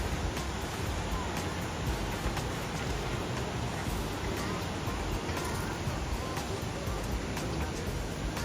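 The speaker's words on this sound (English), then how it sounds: "We just made it to Tegenungan Waterfall." Tegenungan Waterfall in Bali roars as a dense, steady rush of falling water, loud and unbroken throughout with no distinct voices standing out.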